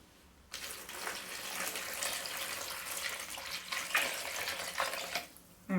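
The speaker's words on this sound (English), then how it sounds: "and then chuck some cold water over." Cold water poured from a tap over salted aubergine in a bowl, a steady broadband rush of running and splashing water lasting several seconds, close and fairly loud, with no talking.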